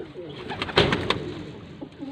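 Pigeons cooing at a Faisalabad loft, a few soft throaty coos and rustles rising to a brief louder burst near the middle, fairly close, with no talk.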